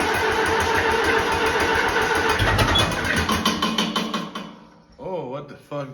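An old tractor engine with a fuel flow problem, after sitting unused, runs roughly up close with an uneven, pulsing chug that falters and dies away, followed by a few short spoken words.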